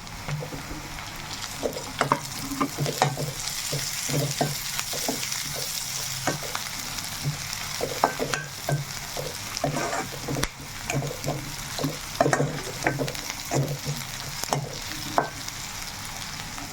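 Curry leaves frying in a pan for a dried-fish and egg curry give a steady close sizzle, with sharp spitting crackles scattered through it and a brief stir or two. No one speaks.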